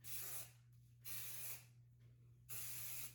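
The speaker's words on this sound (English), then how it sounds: "this texturizing spray, which is the Rusk dry finishing spray" Rusk dry finishing texturizing hair spray, a medium-hold aerosol, gives three close, even bursts of hissing spray with short quiet gaps between them.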